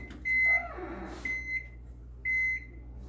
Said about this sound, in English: This is only my 3rd time in the microwave.